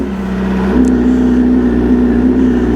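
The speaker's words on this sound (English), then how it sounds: "This is the brand tuned M1000R, and I get to do my first cold start on it since the tune." Tuned BMW M1000R motorcycle engine on a cold start, a loud steady idle hum that settles into a higher, even tone after a brief blip, heard alone up close.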